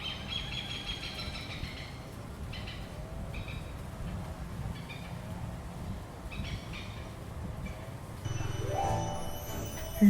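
An exotic hornbill-family bird calls repeatedly on a quiet Thai island, short bright chirping phrases at moderate distance over a steady outdoor rumble, with a louder burst of sound near the end and no talk.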